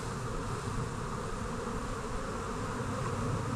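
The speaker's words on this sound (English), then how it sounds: "as soon as you get there them bees are all on you" Honey bees swarm around an open brood hive during a Taranov split, a dense continuous buzzing drone close to the listener that holds for a few seconds with no voices.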